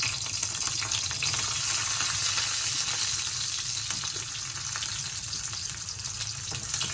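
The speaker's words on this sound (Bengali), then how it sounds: "ফাটনা পর রসুন দিয়ে দিলাম" Garlic and two dried red chillies fry in a little hot oil for a masoor dal, making a steady, close sizzle and crackle that holds at an even level with no voices.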